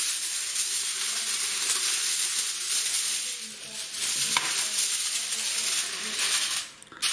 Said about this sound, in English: And then we're just going to steam the rice, guys.